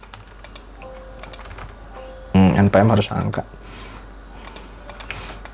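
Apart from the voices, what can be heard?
typing on a computer keyboard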